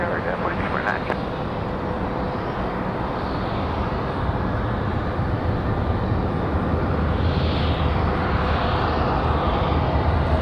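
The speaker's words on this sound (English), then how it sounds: "Southwest 737-700 on the move" A Southwest Boeing 737-700 jet taxiing at an airport, a loud, steady engine roar and rumble lasting throughout, with a voice talking over it.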